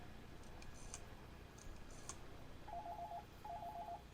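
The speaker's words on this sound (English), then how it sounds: "Ringing." A field telephone set up with a Swedish M37 dialer on common battery gives a few faint clicks, then two short bursts of electronic ringing that pulse in quick succession at low volume.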